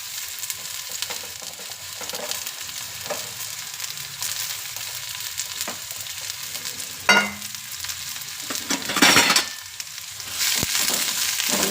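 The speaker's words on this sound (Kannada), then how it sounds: "ಸ್ವಲ್ಪ ಬ್ರೌನಿಶ್ ಆಗೋದು ಹುರ್ಕೊಳ್ಳೋಣ" Turkey berries fry with onion in a pan for gojju until brownish, a soft continuous sizzle with scattered stirring clatters and a couple of louder scraping bursts, with no voices.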